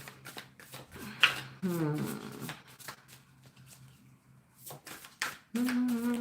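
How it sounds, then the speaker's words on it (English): Tarot cards shuffled by hand in a bursty, riffling rhythm close by, with a speaking voice and brief murmurs mixed in. "I don't know why I keep shuffling these ones for whatever reason"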